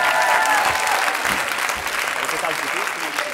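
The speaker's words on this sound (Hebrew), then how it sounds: "תנו הרבה מחיאות כפיים" Sustained applause fills a vegan congress hall, a dense, steady crowd clapping heard close and loud from start to finish.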